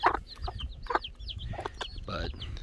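Chicks and hens clucking and cheeping at feeding time, several short calls scattered close by with a low rustling background.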